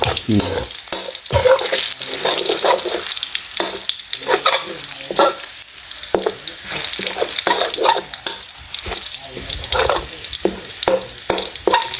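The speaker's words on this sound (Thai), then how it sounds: "ผัดกระเทียมให้หอมก่อน กระเทียมคั่วกระเทียมให้เหลืองให้หอม" Garlic stir-fries in a hot pan for pad see ew, giving a close, continuous sizzle broken by repeated scraping and clattering stirring strokes.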